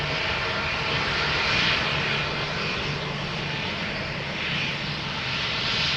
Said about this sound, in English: And here we have Speedbird 2825, British Airways A321, outbound to London Gatwick.